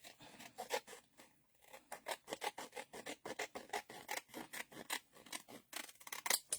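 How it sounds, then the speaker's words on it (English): Scissors snip and rasp through paper while a specimen pocket made from a seed packet is trimmed, a quick run of close, quiet cuts with short pauses and no talking. "take our scissors and just give that a little trim"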